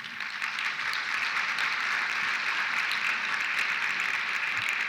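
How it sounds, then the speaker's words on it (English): An audience claps steadily throughout at a college awards ceremony, a broad continuous patter of many hands at even loudness with no voices over it. "So let's give them a round of applause as well."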